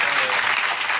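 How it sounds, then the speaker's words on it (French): A church congregation applauds during a sermon, a dense, steady patter of clapping, fairly loud and close, lasting about a second with no words over it. "Pas bon Dieu applaudissement pour ça, non?"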